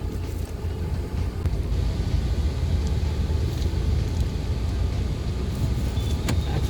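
A Mahindra XUV 700 drives on a bumpy road, heard from inside as a steady low road and engine rumble with faint rattles and knocks, no talk.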